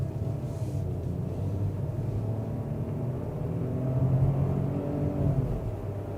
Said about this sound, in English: we're gonna get this thing out onto the highway. I'm just gonna press on the gas.